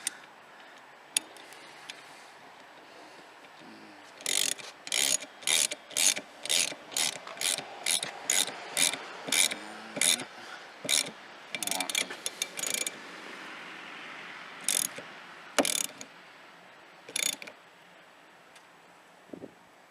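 A ratchet tightening the nut on a Land Rover Discovery 4 rear wiper motor, heard as bursts of sharp, rapid clicking strokes in a steady rhythm, close and loud with brief pauses between pulls.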